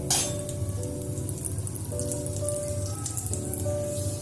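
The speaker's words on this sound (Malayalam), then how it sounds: "അടുത്തതായിട്ട് ഞാൻ കടുക് വറുക്കാൻ പോവുകയാണ്" A quarter teaspoon of mustard seeds splutters in hot cooking oil in a wok-style cheenachatti, giving a steady stream of close crackles and tiny pops over a low hum, with no talking.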